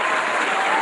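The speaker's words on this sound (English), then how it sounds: "Let's hit the round of applause" A brief burst of crowd applause sound effect, dense and steady clapping for under a second.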